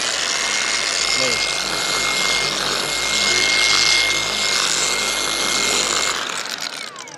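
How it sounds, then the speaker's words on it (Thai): RICOTA car polishing machine running at a tool launch event in Bangkok, a steady, loud motor whine held for several seconds before winding down near the end. "อย่างเช่นอันนี้เป็นเครื่องขัดรถ"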